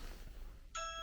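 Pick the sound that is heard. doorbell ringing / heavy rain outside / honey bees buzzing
doorbell ringing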